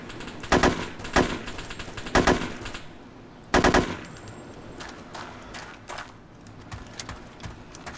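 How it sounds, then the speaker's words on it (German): ARMA 2 gunfire aimed at the player: several loud close bursts of automatic fire in quick succession, separated by short pauses, with scattered fainter shots between them. "Oh, auf mich wird jetzt geschossen."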